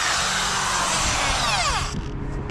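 Loud, close whine of a Ryobi 5/8-inch tradesman drill boring into wood with an auger bit, a steady high-pitched motor drone with grinding strain, the pitch sweeping down near the end as the bit bogs and then slows.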